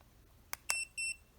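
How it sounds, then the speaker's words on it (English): Two short electronic beeps from a remote spray dog trainer set to intensity level 2, close and clear, each a steady high tone lasting a moment, preceded by a couple of faint clicks, in an otherwise quiet room. "you'll notice that now it's 2 beeps"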